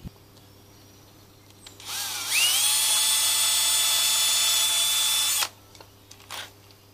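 A power drill bores screw pilot holes into pallet wood for a DIY bunk bed, the motor whining up to a loud steady pitch for about three seconds before stopping abruptly, with no voices.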